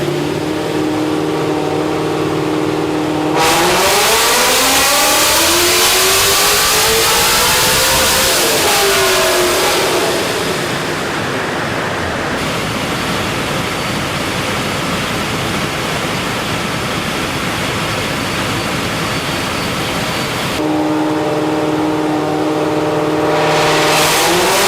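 Procharged Ford Mustang S650 on a dyno, the engine revving hard and climbing in pitch under a loud supercharger whine and roaring airflow, then dropping back before another loud run near the end.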